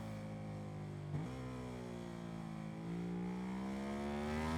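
A V-twin motorcycle engine with a 75-degree V angle revs in the RIDE 5 racing game, a steady whining drone that dips at a gear change and then climbs again, with no talking.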